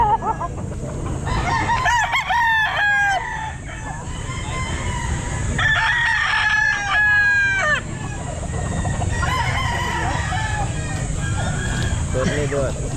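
Gamefowl roosters crow repeatedly at a busy pet market, several harsh cock-a-doodle-doo calls overlapping near and farther off, with clucking and a steady crowd murmur beneath, and people talking throughout.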